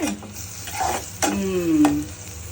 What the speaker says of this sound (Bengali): চুলার আঁচটা বাড়াই দেই না হলে আবার পেঁয়াজটা ভালোভাবে ভাজা ভাজা হবে না